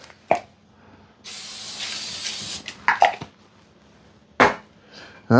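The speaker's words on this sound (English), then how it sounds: "Put a little spray on it." A broadband hiss of aerosol cooking spray lasting over a second, surrounded by a few sharp kitchen clatters and taps.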